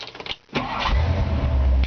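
A 1963.5 Ford Galaxie with Flowmaster dual exhaust cranks briefly, then fires and settles into a loud, deep, rumbling idle close by.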